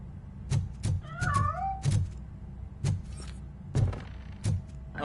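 A cat meows in the game Robocop: Rogue City, a short wavering cry rising over a steady series of heavy thumping footsteps, fairly close, with no talk.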